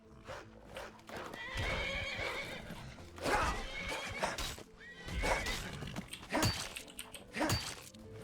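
A horse in the video game Enderal whinnies repeatedly while its hooves clop and thud, with the neighs loud and close among game sound effects.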